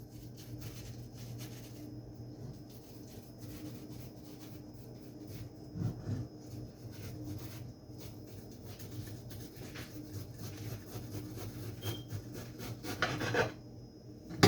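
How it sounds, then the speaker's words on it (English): A knife slices at an angle through a watermelon, giving a faint, steady rasping scrape that runs throughout, with a couple of louder crunching strokes midway and near the end. "So, I'm going to cut it on an angle."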